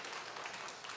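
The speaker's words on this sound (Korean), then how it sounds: "박수 크게 해주세요." Applause from a church congregation at a Christmas thanksgiving service, a brief, faint patter of many hands clapping together in a large room.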